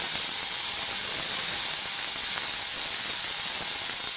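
Brinjals dropped into a hot pan with Kolhapuri masala give off a steady, even sizzle and hiss that runs unbroken and fairly loud from start to finish.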